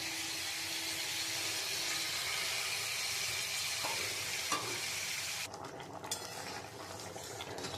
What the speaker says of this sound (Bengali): এবার আমি মটর ডালটা সিদ্ধ করে রেখেছিলাম, এই মটর ডালটা আমি দিয়ে দেবো।